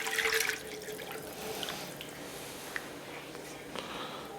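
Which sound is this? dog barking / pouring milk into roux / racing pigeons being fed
pouring milk into roux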